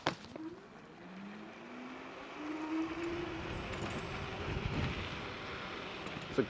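Apollo Phantom electric scooter accelerating at full throttle, with a rising motor whine over steady wind and road rumble that grows louder as speed builds.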